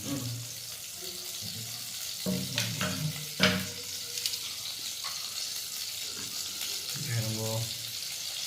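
Oil sizzles and fries in a clay pot in a home kitchen, a continuous crackling hiss with a few sharper spits and stirring clatters, while voices talk intermittently over it.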